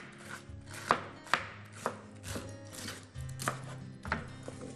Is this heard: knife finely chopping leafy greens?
yes